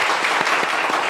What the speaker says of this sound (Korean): 박수 한번 드릴까요?